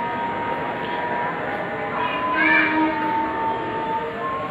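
On a KRL commuter train platform at Manggarai station in Jakarta, a moderately loud train rumbles and rolls past, with a faint brake squeal rising midway through the continuous rail noise.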